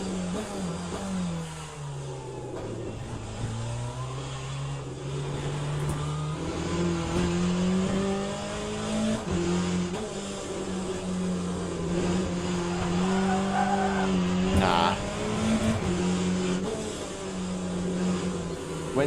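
Race car tires squealing in the Le Mans Ultimate racing game, a sustained tonal whine running steadily under a droning engine for the whole stretch, with a brief sharp burst near the end.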